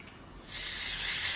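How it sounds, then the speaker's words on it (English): A hair volume spray hisses onto the roots in one steady close burst, starting after a brief quiet moment and continuing evenly to the end. "you kind of have to go into your roots, spray it"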